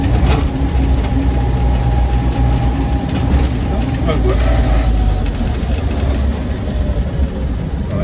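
A Land Rover Series 2a 88-inch petrol soft top idling, a steady low engine rumble running throughout while someone talks over it nearby.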